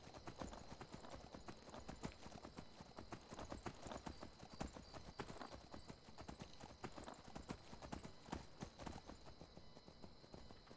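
Steady clip-clop of horse hooves at a brisk trot in the video game Skyrim, continuous and fairly quiet, with no talking.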